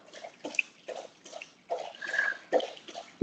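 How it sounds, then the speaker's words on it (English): A Labrador laps up drinking water in quick, uneven wet splashes and slurps, close and fairly quiet, with short gaps between bursts. "that noise is my Labrador getting a drink of water"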